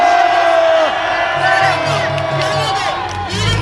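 A crowd at a Korea University student rally opposing impeachment cheers loudly, with whoops and shouts rising over a sustained roar of voices close by.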